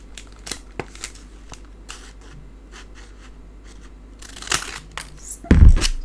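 Scissors trim ribbon and designer series paper while making a concertina pocket card: a few soft, close snips and light paper rustles, ending with louder crinkling handling.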